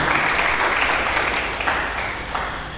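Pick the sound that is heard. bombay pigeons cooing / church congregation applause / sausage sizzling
church congregation applause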